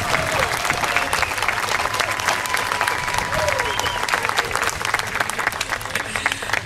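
An audience at an outdoor evening big band concert at the Des Moines capitol claps loudly and continuously, with dense applause, a few whistles and scattered voices in the crowd.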